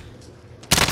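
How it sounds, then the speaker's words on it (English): Sudden loud burst of rapid gunfire in a military shooter video game, kicking in near the end after a quiet stretch and continuing steadily to the close. "Taking direct fire!"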